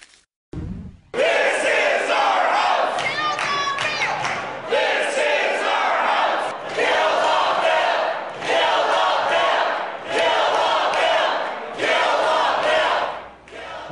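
A large crowd of protesters in Michigan shouts and chants loudly in sustained, surging waves with brief dips between bursts, heard near and dense throughout.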